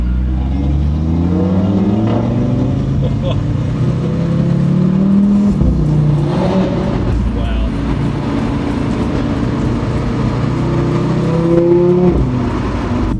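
An Audi RS3 engine revs and accelerates loudly up close in an urban setting, its growl rising and dropping through gear changes, with a brief exclamation from a voice.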